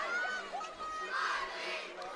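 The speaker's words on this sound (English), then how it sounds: "You can just hear the crowd already." A crowd of spectators at a school netball match between Paarl Gim and Paarl Girls' High makes a steady, fairly loud roar of chatter and cheering, with no clear single voice.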